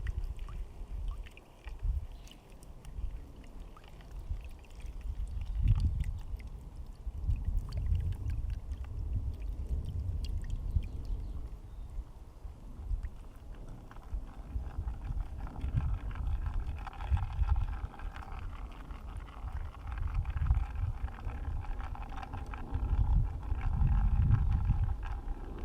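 A gold pan is tilted forward and swirled slowly under water, giving a continuous low sloshing and gravelly washing sound with rhythmic surges, close and steady throughout.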